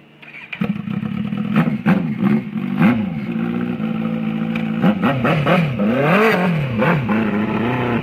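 A Kawasaki Z800 Turbo motorcycle engine revs loudly and close, its pitch sweeping up and down through repeated throttle blips over a steady idle, with no talk.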